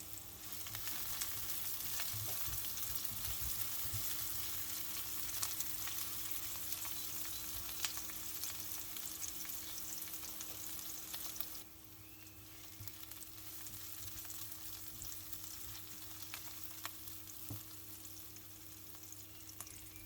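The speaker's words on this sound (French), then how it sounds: "maintenant je viens à mettre la moitié de mes oignons. On va donc les faire dorer un petit peu." Onions frying in olive oil in a pan, a steady dense sizzle that holds for the whole stretch and eases slightly partway through, close and alone with no talk.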